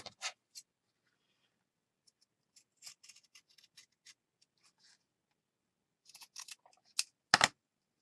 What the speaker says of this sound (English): I'm going to get my fabric scissors.